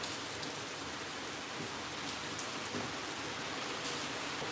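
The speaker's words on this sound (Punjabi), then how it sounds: "ਅੱਜ ਤਾਂ ਮੀਂਹ ਬਹੁਤ ਪੈ ਰਿਹਾ ਬਾਹਰ" Heavy rain falls outside in a steady, even wash of patter, fairly soft and continuous with no voices.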